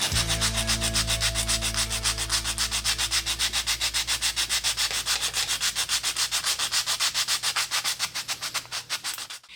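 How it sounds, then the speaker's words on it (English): Rapid, steady back-and-forth hand sanding strokes rasp against a cut in a vintage RC Gremlin body, loud and close, running continuously and slowing toward the end. "it's time to start the grueling sanding process"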